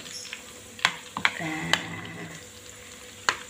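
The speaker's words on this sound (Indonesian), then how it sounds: "Ini barusan mendidih minyaknya ini." A fish-flavoured snack fries in freshly boiling oil with a soft, steady sizzle, broken by a few sharp clicks and taps of a utensil stirring in the pan, close by and fairly quiet.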